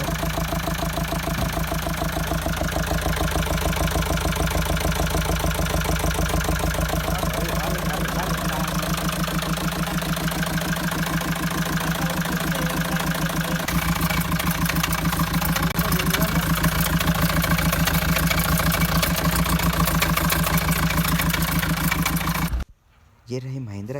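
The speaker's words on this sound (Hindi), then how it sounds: "कार में इंजन नॉइज़ काफ़ी ज़्यादा आ रही है। इंजन वाइब्रेशन भी कर रहा है" A Mahindra XUV500 engine with a knocking fault runs at idle, a loud, steady rumble with a rapid rhythmic tapping, close by, cutting off abruptly near the end.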